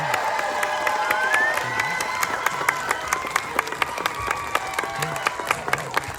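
Audience at a TIFF film Q&A applauding and cheering, with sharp claps over a steady crowd roar and a few shouts throughout, loud and sustained.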